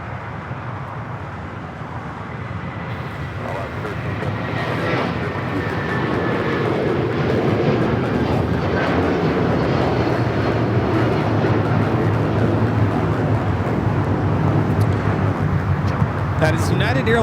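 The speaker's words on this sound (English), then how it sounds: "That is United Airlines 2113 taking off to Chicago on the 757-300." A United Airlines Boeing 757-300 takes off at Los Angeles International Airport, its engines a loud, sustained roar that builds over the first few seconds and then holds steady. A voice talks over the engine noise.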